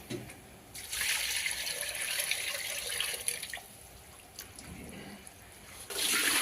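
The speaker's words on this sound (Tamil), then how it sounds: "பைப்பு தண்ணியில் கழுவு" Water runs from a tap in bursts, splashing and trickling as something is rinsed, stopping briefly midway before the flow starts again louder.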